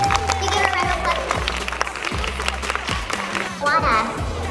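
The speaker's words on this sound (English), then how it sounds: "Give her a round of applause." A convention crowd at Collector Con applauds a cosplayer: sustained clapping with scattered voices, while booming low-pitched sound from the venue repeats underneath.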